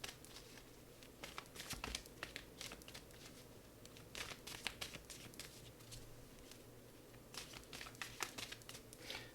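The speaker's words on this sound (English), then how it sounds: "I'm going to shuffle." Quiet crisp riffling and flicking of tarot cards being shuffled, in repeated bursts with soft taps between them and no voices.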